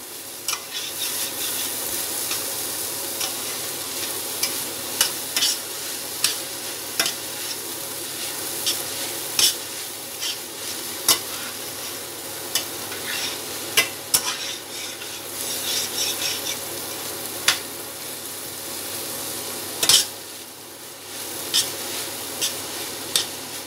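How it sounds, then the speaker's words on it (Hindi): Grated carrots for gajar halwa are roasted in a pan after the milk has dried off. A steady scraping stir and light sizzle run throughout, with frequent clicks of the spoon against the pan and no voices. "दूध खुश्क हो गया है, अब इनको भूनेंगे, फिर घी डालेंगे"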